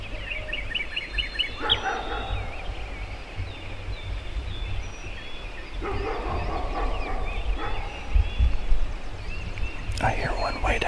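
A wild turkey gobbles in the distance on opening day of turkey hunting season over a steady outdoor background, with a few short bursts of calling spread across the stretch.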